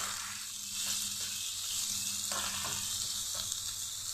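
Garlic and onion paste frying in a pan, a loud continuous sizzle that crackles steadily throughout, with faint stirring scrapes mixed in and no talking.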